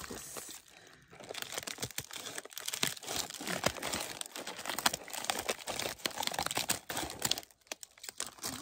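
A Black Friday craft-supply mystery bag from a cheap craft haul is cut open, with continuous crinkling and crunching of plastic packaging, close and fairly loud, plus scattered sharp crackles throughout.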